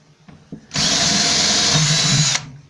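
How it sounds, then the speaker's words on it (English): Power drill fitted with a larger bit bores a hole while adding heat and fresh air under a house: a steady, loud, continuous whine after a couple of faint clicks, running about one and a half seconds, then stopping abruptly. "I'm going to switch up and try a bigger drill bit,"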